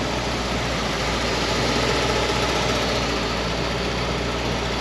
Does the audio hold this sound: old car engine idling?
yes